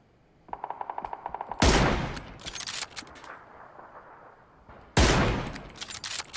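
A rapid burst of gunfire in PUBG followed by two loud, sharp blasts with rumbling echoes, separated by quieter stretches.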